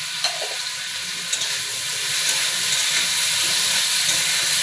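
Mango chutney cooking in a pan with salt, a loud steady hissing sizzle that swells and holds, with a couple of faint taps of a spoon early on.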